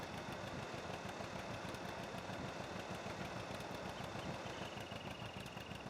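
A tractor pulling a new round baler in Farming Simulator 19 gives off a steady, slightly knocking engine drone at moderate level, with nobody talking.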